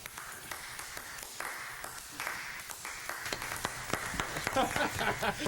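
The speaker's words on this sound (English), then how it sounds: "Give yourselves a round of applause." Applause from a comedy club audience, a steady wash of clapping that swells and grows denser toward the end, with sharp individual claps standing out near the close.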